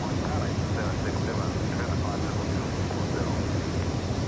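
A light aircraft engine drones in flight, heard from inside the cabin as a dense, steady roar that holds an even level throughout with no clear pauses.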